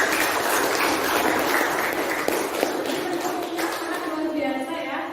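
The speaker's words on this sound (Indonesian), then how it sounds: "Tepuk tangan buat" A class of ninth-grade students applauds during a classroom lesson. The clapping is sustained and fairly loud, fades slightly toward the end, and has faint voices beneath it.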